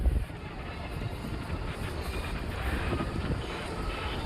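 Steady wind rushes and rumbles against the microphone along the Pasig River esplanade, a continuous moderate roar with no clear talk.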